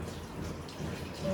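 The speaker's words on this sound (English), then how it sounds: "and I'll strain this yakni." Yakhni broth for pulao is poured through a strainer, a continuous splashing, pattering liquid stream close by for a brief moment.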